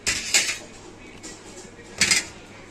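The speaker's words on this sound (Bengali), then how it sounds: "ওই জন্য আলুও দিয়ে দিলাম।" Potatoes dropped into a cooking pot of khichuri in a home kitchen, with two clattering metallic knocks of utensil against pot and quiet kitchen handling in between.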